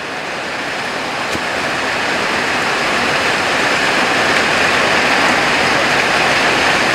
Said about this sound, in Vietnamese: Mưa rất là lớn luôn cả nhà.